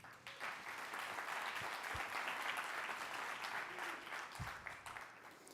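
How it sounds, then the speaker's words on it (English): Steady applause from a conference audience at an Axios summit, a dense continuous patter of clapping that holds evenly for several seconds, heard alone at a moderate distance. "applause for Axios events"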